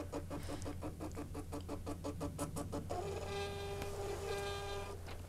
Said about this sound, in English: the thermal printer will start to generate a report for you